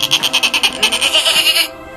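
In an animal noise contest, a person imitates a goat, giving a loud, close, quavering bleat that pulses in quick rhythmic wobbles for about two seconds before cutting off.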